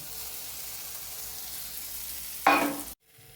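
An egg burger patty is set into hot oil on a stovetop, and a steady frying hiss rises into a sharp, louder sizzle burst before cutting off abruptly, close and with no voices.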